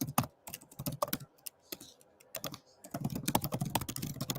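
Rapid bursts of computer keyboard typing, close and fairly quiet, with irregular pauses between clusters of keystrokes and a denser run of clacking toward the end.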